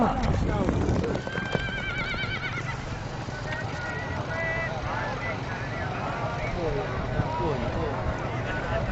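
Horses neighing and whinnying with hoofbeats at a 2024 All Pakistan horse race, loud and continuous amid a noisy crowd, while an announcer talks over the whole scene.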